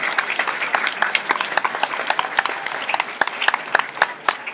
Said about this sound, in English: a round of applause for everybody who contributed their time